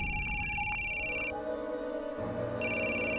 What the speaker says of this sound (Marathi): रिद्धिमाचा फोन आहे.